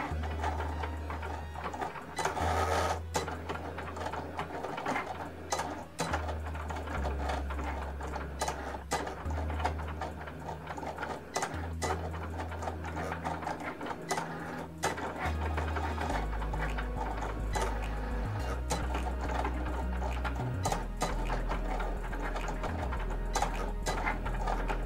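Cricut cutting machine slicing permanent vinyl for a reusable bag: a continuous close mechanical whir with rhythmic low motor pulses and quick ticking carriage movements, steady and moderately quiet throughout.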